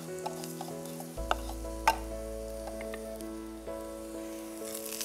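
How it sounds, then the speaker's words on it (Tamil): Black sesame seeds roast in a pan with a soft steady sizzle and faint crackling pops, a spoon scraping and stirring now and then over a constant low kitchen hum. "எள்ளு வந்து நல்லா பொரியிற அளவுக்கு நல்லா வறுத்துக்கோங்க"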